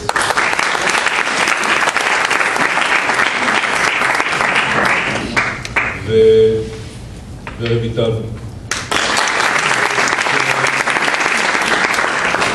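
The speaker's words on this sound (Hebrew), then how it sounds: "אני מקווה שמתי שמתנסות תוכלו לתת להם באמת את מחיאות הכפיים" Applause from the audience at a 12th grade graduation ceremony: loud, sustained clapping from a crowd, broken briefly in the middle by a spoken name over a quieter gap, then the clapping swells back to full strength.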